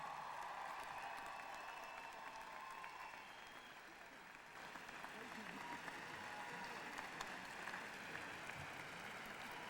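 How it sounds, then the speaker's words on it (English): Graduates applaud at a University of Washington graduation ceremony in a large hall, a sustained, evenly textured wash of clapping from a big crowd heard from a distance at moderate level. "the graduates should applaud their family and friends who have supported them through the years"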